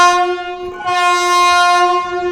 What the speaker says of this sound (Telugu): ఈ ట్రైన్ స్టార్ట్ అయిపోతుంది.